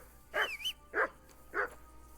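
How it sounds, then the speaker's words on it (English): A dog barking in the video game Kingdom Come: Deliverance II, three separate barks spaced about half a second apart, the first slightly drawn out, fairly close and clear with no talk. "That barking was a pain in the ass."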